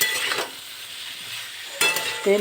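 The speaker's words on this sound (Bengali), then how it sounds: "কাঁচা লঙ্কা দিয়ে দিলাম একটু কষিয়ে নেব" Green chilies sauté in a pan with vegetables, a loud close sizzle with a spatula stirring in two bursts separated by a quieter stretch.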